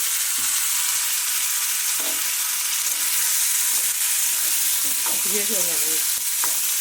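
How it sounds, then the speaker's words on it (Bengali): Chicken pieces and potatoes fry in hot oil in a pan, giving a continuous loud sizzle with occasional spatula scrapes and clinks as they are stirred. "চিকেনটা একটু ভেজে নিলাম"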